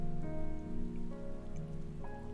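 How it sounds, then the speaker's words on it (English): Rain falling in Final Fantasy XIV: Endwalker patters as a soft, even hiss beneath sustained, subdued musical tones that dominate the foreground. "Doesn't help that it's raining."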